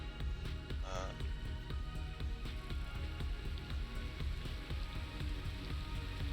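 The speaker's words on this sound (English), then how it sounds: "It's raining." Rain in the video game Satisfactory: a steady, dense patter of rain on surfaces under a low hum, continuous and fairly loud throughout.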